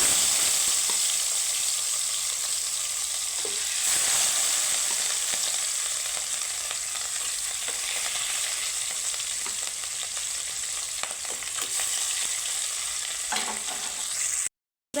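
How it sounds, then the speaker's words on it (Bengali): Rui fish frying in hot oil for a five-spice fish dish cooked without onion or garlic, giving a steady, dense sizzle throughout with occasional faint pops and a slight swell partway, ending abruptly. "আমি বেনিব এই মাছগুলো আমি একইভাবে ভেজে তুলে নেব"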